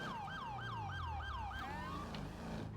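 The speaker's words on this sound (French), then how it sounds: "Bon, bah si, tu l'entends bien pourtant la sirène." A police siren wails in a quick rising-and-falling yelp pattern, repeating steadily for a couple of seconds at moderate distance before trailing off, over a low motor rumble.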